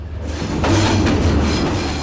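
A train roars past up close, a loud rumbling rush with rattling wheels that swells quickly and holds steady.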